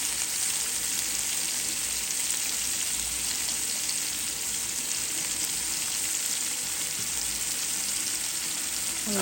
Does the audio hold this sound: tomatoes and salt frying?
yes